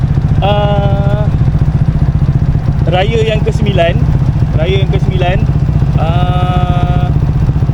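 A Yamaha LC135 V8 motorcycle engine drones steadily and loudly during an on-board night ride, a constant low hum with a voice talking over it in several bursts.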